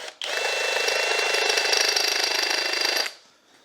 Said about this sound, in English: I'm just giving them a quick run on the cone cutter.